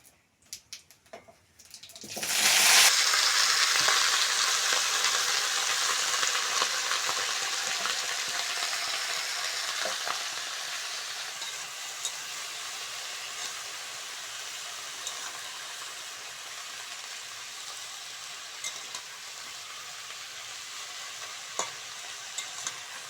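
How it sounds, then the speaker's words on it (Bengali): Washed vegetables for a cabbage chochchori hit hot oil tempered with two dried red chillies and cumin, setting off a sudden loud sizzle that settles into steady, gradually softening frying with occasional stirring clinks. "ফোড়নের জন্য নিয়েছি দুটো শুকনো লঙ্কা আর জিরে ধুয়ে নেওয়া সবজিগুলো দিয়ে দেবো"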